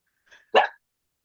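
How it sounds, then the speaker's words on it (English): A dog barks once nearby, a single loud, short bark preceded by a faint softer yelp, then silence. "Got a dog having a fit."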